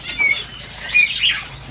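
Caged birds in a bird shop kiosk at the Pramuka market flutter their wings in a few quick, close bursts, mixed with brief chirps.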